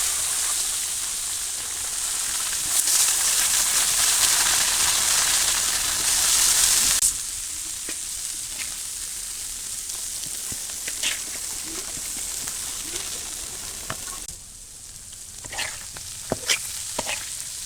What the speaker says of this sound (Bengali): করলা আর আলু একটু মোটামুটি করে ভাজা ভাজা করে নিচ্ছি